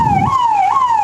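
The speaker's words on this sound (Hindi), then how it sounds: "आप देख सकते हैं हमारे पीछे वो एम्बुलेंस आ चुका है" An ambulance siren wails nearby, a loud single tone sweeping up and down in a steady cycle, with a brief low rumble of traffic at the start and no talk.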